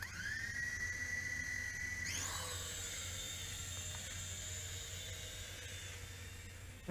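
A JJRC H11WH altitude-hold camera quadcopter drone lifts off. Its high whining rotor pitch climbs sharply partway through and then holds steady, loud and close, with no voices.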